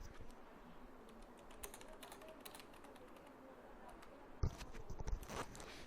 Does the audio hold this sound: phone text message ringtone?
no